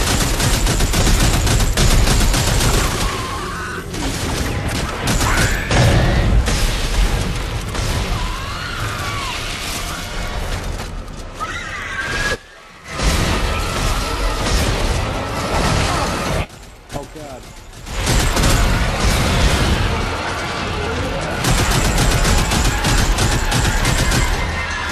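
Rapid bursts of enemy gunfire in the sci-fi horror game Dead Space 3, dense and loud with brief pauses, mixed with game effects and players talking.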